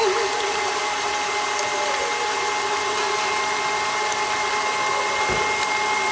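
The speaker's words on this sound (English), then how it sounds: "I'm gonna whisk this, okay?" An electric whisk beats caster sugar for a strawberry roulade, giving a steady, loud motor whir that holds an even drone from start to finish with no talking.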